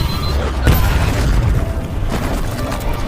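A loud, deep bomb explosion in an action film bursts out and rumbles on through a dense, noisy background, followed by a fainter second thud.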